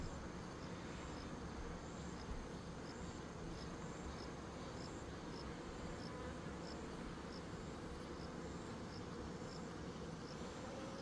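Insect buzzing at a beehive while bees are sorted in August for building autumn colonies, with a giant hornet hunting nearby; a steady, dense drone holds on throughout with no voices.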